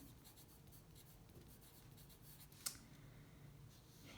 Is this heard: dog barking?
no